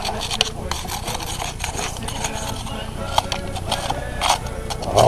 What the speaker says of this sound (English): You can see this stuff break up too while I'm scraping it off.